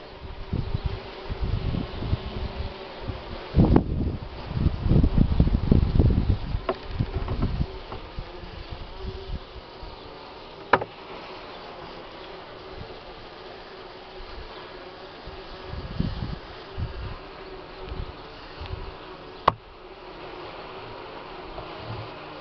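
Honeybees from a collapsed colony that died in early spring buzz around a frame lifted out of their hive, a low droning hum that swells loudly near the start and then fades to a faint, steady background with brief rustles.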